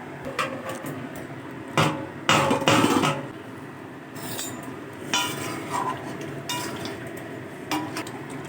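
Metal lid and cookware clatter as a pot of mutton kosha is covered and handled, giving a few loud close clanks and scrapes between quieter rattles and soft kitchen noise.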